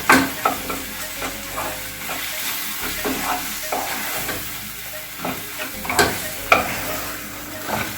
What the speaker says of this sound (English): You need to keep stirring, otherwise the powder, the sambar powder will get stick to the pan.